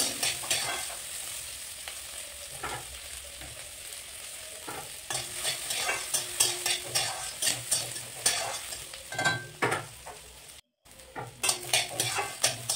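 Chopped onion fries in oil with five-spice and whole chillies, sizzling steadily while a spatula scrapes and clinks against the pan in repeated rhythmic strokes.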